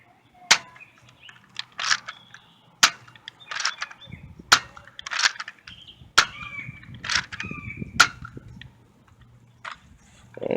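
A Nerf Hammershot toy blaster fires five rounds in its stock state: five sharp snapping shots spaced roughly a second apart, each followed by a short mechanical click-and-whir, with quiet between shots.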